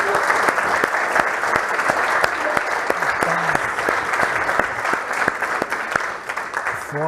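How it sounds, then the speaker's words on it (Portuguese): A church congregation bursts into sustained, dense applause that holds at full strength for several seconds, many hands clapping together, then tapers slightly near the end. "Palmas para Jesus!"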